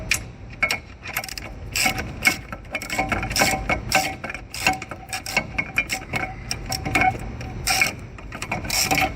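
Ratchet wrench snugging 16 mm bolts on a Rugged Ridge Hi-Lift jack mount, a steady run of close, rapid metallic clicks in bursts with brief pauses, no talking.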